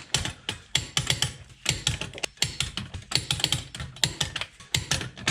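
A torque wrench ratchets as wheel nuts on an 03-07 Honda Accord are tightened to 80 foot-pounds, rapid loud clicking strokes repeating in quick bursts with short pauses between, close and alone.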